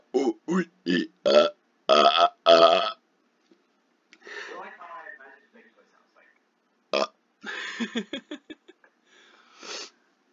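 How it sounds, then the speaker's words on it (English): A man does rapid-fire burping, splitting one big burp into a quick string of short, loud burps, then a few more bursts and throaty vocal sounds follow close to the microphone. "something I call rapid fire burping, where I cut the big burp into a lot of little ones"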